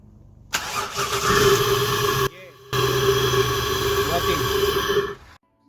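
A Toyota 1JZ/2JZ engine, just back from an ECU repair, cranks briefly and then catches, settling into a steady close idle. A short break in the sound comes partway through, and the engine runs on alone.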